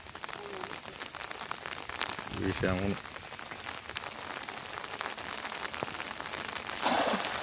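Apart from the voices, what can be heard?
rain falling near a river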